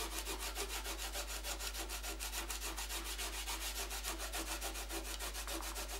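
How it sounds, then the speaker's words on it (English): Fingers rub dried masking fluid off watercolour paper in quick, steady, evenly spaced strokes that scratch close and alone throughout. "Remove the masking fluid by rubbing with your fingers."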